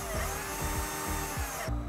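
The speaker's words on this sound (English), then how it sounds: "one of the things that we can use is a standard drill, and we could open the drill up and just put the wires inside" A standard power drill twisting wires into a twisted pair, its motor whining steadily with a rhythmic pulsing wobble as the wires wind, then cutting off abruptly near the end.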